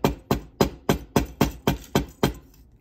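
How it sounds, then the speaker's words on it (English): A rubber mallet strikes wire being shaped for three-strand earrings, nine sharp, evenly spaced taps at a steady rhythm, close and clear, fading slightly toward the end with no talking. "we want to work hard on the wire a little bit so it will hold the shape. And I will hammer only this part from here to here"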